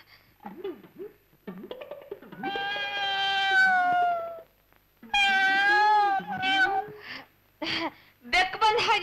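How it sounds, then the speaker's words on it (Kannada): A cat meows indoors in a house troubled by rats, giving several drawn-out, wavering cries close by, separated by short pauses, with softer vocal sounds between them. "ಬೆಕ್ಕು ಬಂದ ಹಾಗಿದಪ್ಪ."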